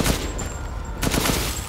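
Rapid gunfire from the player's weapon in Resident Evil Village plays as a dense, loud burst of shots that runs continuously through the short moment.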